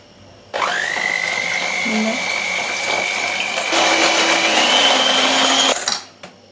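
An electric mixer whisks eggs and oil with a pinch of salt for a layered cake, a steady, close motor whine running for several seconds and shifting pitch partway through before stopping.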